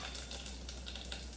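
Chilies and cumin sizzle in hot oil in a quiet, steady crackle with faint spattering bursts over a low hum, brief and without speech.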